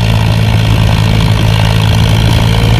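Powertrac 439 tractor engine hauling a fully loaded trolley, a loud, steady low diesel drone that stays close and continuous without pause.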